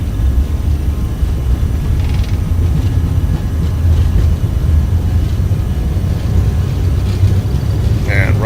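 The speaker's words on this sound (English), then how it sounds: "Takeoff power is set." CRJ 700 jet engines spooled to takeoff power in the X-Plane 11 flight simulator, a steady, loud low rumble and roar holding evenly throughout, with a faint higher whine on top.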